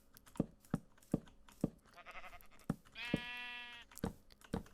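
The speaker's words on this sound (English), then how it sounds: "We got a couple sheep." Sheep bleating in Minecraft, two wavering bleats from a pair of sheep, one after the other, set among regular footstep thuds, clear and close with no talking.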